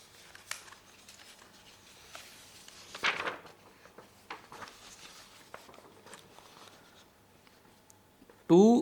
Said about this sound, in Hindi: दूसरे पेज में लिखते हैं।